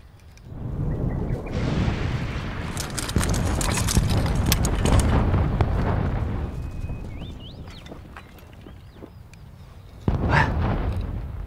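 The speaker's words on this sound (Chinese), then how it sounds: "这炮声不是在附近啊？" Distant artillery shelling in the middle of the night rolls in as a continuous low booming rumble that swells and fades over several seconds, with a sharper thud near the end.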